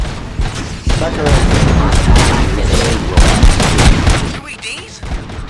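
Rapid gunfire bursts and booming impacts from the video game RoboCop: Rogue City, loud and sustained across the stretch with dense overlapping shots and brief voice fragments mixed in.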